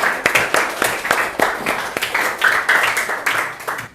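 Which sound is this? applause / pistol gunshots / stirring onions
applause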